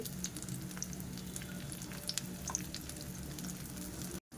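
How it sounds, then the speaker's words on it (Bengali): Pomfret fish shallow-fries in a little oil, a soft continuous sizzle with faint crackles and pops, fairly quiet and without any voices. "আমি এটা কিন্তু ছাঁকা তেলে ভাজছি না অল্প তেল দিয়ে মাছটাকে ভেজে নিচ্ছি"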